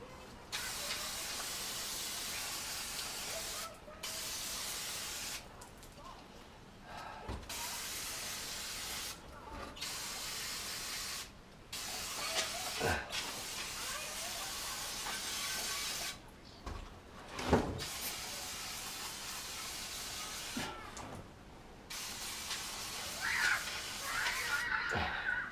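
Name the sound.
brake cleaner spray on a camshaft cover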